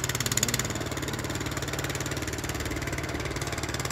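Speedboat engine running on a river, a steady mid-pitched throbbing drone with a fast regular pulse, fairly faint and continuous with no speech.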